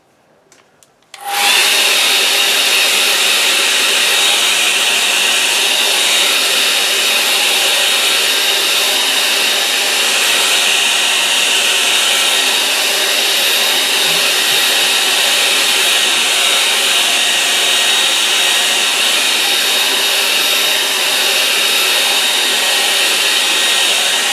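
A hair dryer blows steadily on a watercolour painting of clouds over a lake, switching on after a brief quiet moment and then roaring loud and continuous with a broad airy hiss for the rest of the clip.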